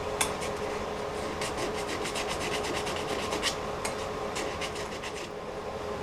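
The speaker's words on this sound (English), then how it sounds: "A little bit of sanding to do because I got that wood filler in there." Hand sanding across a wooden bowl lid patched with wood filler, a faint rasping rub repeated in quick, even strokes close by, with no talking.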